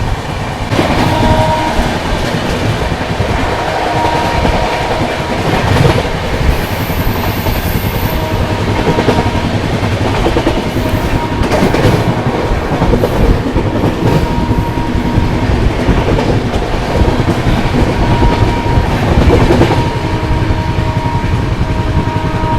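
Bihar Sampark Kranti express train running at speed through Etawah Junction, a steady loud rumble and rattle of wheels and coaches throughout, with clickety-clack of rail joints and a brief horn-like tone.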